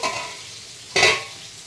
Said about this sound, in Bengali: জিরে শুকনো লঙ্কা তেজপাতা ফোড়ন দিয়ে পটলটা ভাজা বসিয়েছি